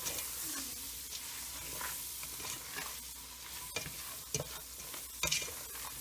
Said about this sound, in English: Once you got all your seasonings in there, give that a good stir.